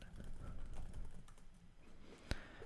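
Fingers type on a computer keyboard, a soft, quick run of close key clicks that ends in one sharper tap, as if hitting enter. The sound is quiet and there is no talk.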